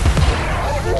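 A single heavy gunshot from the video game Alice: Madness Returns, a short loud boom that rings out and fades within a second.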